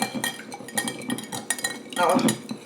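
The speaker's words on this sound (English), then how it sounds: "Okay, I'm just going to crack it. Just beat it up." A fork beats a farm fresh egg in a bowl with quick rhythmic clinks and taps against the sides, close and fairly loud, with a brief burst of heavier stirring near the end.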